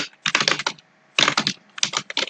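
Someone types code on a computer keyboard in three quick bursts of close, crisp keystrokes separated by short pauses.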